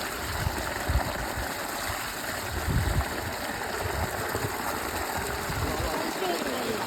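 Cold water running steadily along an irrigation channel at Bhaguda, a continuous close rushing wash with a few louder gurgling bursts, alone without talk.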